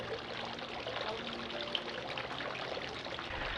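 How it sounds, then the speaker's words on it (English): Dark rum is poured over the top of a Mai Tai punch as a topper, a soft, steady liquid stream heard close and fairly quiet, continuous for a few seconds with no talk. "I'm just going to pour a little rum over the top."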